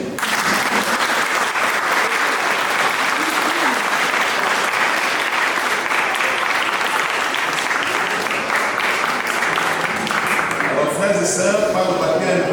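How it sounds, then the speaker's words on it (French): Church congregation at a baptism applauding the newly baptized children, loud sustained clapping from a large crowd that continues without letup, with voices mixed in and a shift toward the end. "Nous allons applaudir très fort pour ces enfants qui sont baptisés."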